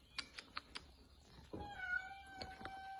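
A cat meows a few times indoors, quiet short calls with soft tapping clicks between them, followed by a faint steady hum.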